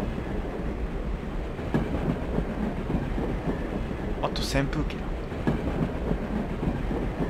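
Train rolling along rails in the game GADGET -Past as Future-, a steady low rumble with faint rhythmic clatter running throughout, briefly overlaid by a short high-pitched squeal, while someone talks over it.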